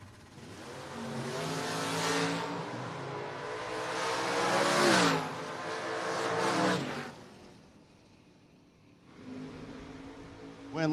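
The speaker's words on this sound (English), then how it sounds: "Cliff Hinson in the 5th Gen Camaro up against Steve Long out of Maryland in the 1970 Mustang." A 5th Gen Camaro and a 1970 Mustang run a drag race pass, engines revving hard and rising through gear shifts, loud and sustained for several seconds, then the roar fades briefly before another surge near the end.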